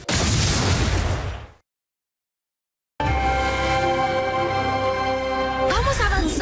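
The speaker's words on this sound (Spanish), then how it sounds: "Explosión de color en camino." Cartoon color-explosion effect from My Little Pony: a loud, dense burst of noise, then abrupt silence, followed by a bright shimmering tonal swell with sparkling chime-like layers that ends in a rising sweep.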